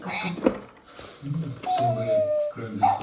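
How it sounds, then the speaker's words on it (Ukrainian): A dog whimpers and yips in short high whines close by, with people talking over it. "Собака."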